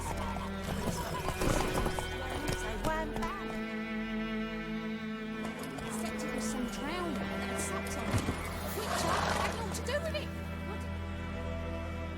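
Roach, Geralt's horse in The Witcher III, clip-clops along with steady hoofbeats and a whinny, while characters talk over the top in a game scene with music.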